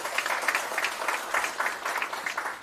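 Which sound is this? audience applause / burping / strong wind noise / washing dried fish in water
audience applause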